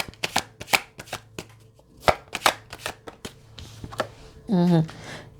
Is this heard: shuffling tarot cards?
yes